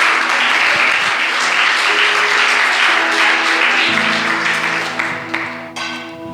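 A church congregation applauds loudly and steadily for the Lord during a sermon, broadband clapping that holds for several seconds, then thins and fades near the end as sustained musical tones rise underneath.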